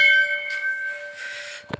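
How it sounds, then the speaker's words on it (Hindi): A temple bell at a Shiva shrine in Pateshwar Dham, Chhattisgarh, is struck once and rings out with a clear, sustained metallic tone that slowly fades, followed by a soft knock at the end. "घंटी बजा देते हैं।"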